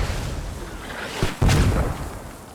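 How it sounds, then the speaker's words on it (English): Mortar rounds landing in a video game: continuous rumbling battle noise, then a sharp impact and a heavier booming explosion that rolls on and fades. "They are mortaring basically all over this area"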